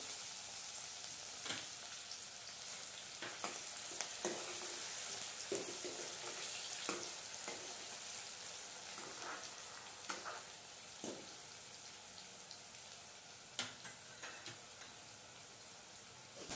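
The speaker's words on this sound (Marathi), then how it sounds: "ही बारीक चिरून घेतलेला कांदा हा टाकून घेणार आहोत" Finely chopped onion frying with mustard seeds in hot oil for Kolhapuri misal, a steady quiet sizzle broken by sharp scraping stirs and small clinks, with no talking.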